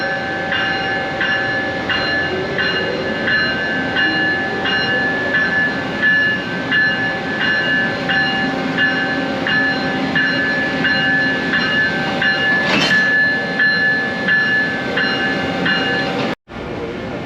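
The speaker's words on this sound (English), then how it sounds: "our ACS-64 arrived and is about to get hooked to the train" An Amtrak ACS-64 electric locomotive, number 670, couples onto the Crescent passenger train, with a steady loud mechanical drone, a regular ticking pulse and a brief clank near the end.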